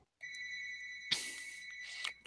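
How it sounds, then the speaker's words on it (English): An old-style landline telephone ringing with a retro bell tone, heard as faint, distant bursts of bright ringing. "Yeah, sounds like a phone."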